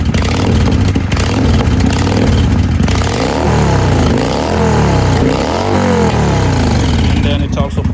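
A cheap motorcycle engine revs in rising and falling surges, bogging as the throttle opens and sputtering, with steady loud engine noise throughout at close range.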